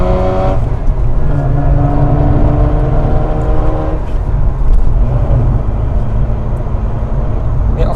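A 2007 Mazda RX-8 with its 13B rotary engine under way, shifting into fifth, a steady loud engine drone throughout with a gear change around the four-second mark, no talk over it.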